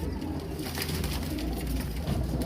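A Kasuri pied pigeon at the Shahdra pigeon market in Lahore gives low, soft cooing that repeats at a moderate level over faint background noise.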